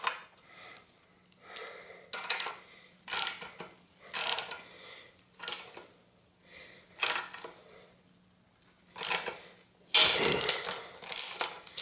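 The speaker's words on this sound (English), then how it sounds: "Now again, I'm going to use my socket wrench to tighten this down." A socket wrench ratchets in a series of sharp, close clicking bursts, about eight separate runs, while a crank puller is tightened to remove a crank arm with stripped threads. A faint steady hum runs underneath.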